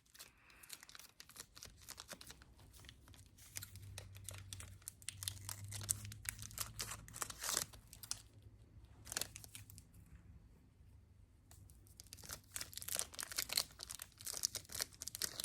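Lemon-flavored frozen wax candy being unwrapped and chewed, close crinkling of wrapper with crisp snaps and soft crunches, irregular and quiet, with faint low murmuring in places.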